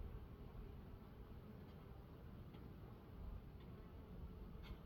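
A honey bee at a hive buzzes faintly and steadily on its own, a thin continuous hum with a few soft, brief higher tones rising above it.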